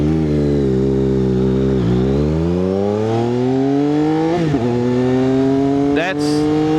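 A motorcycle engine pulls hard and close through several rising surges, its pitch climbing and then dropping at each gear change across the run.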